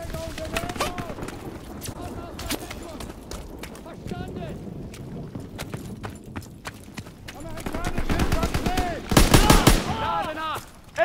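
Machine gun fire and other gunfire in a World War II battle in Call of Duty: WW2, during the Hill 493 mission, with repeated rapid bursts under shouting voices and a heavier, louder flurry of shots near the end.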